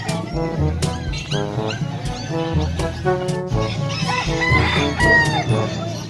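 Several fighting roosters crow over a busy, noisy crowd at an animal market in Angeles, Pampanga, with clucking and a dog barking now and then in the background.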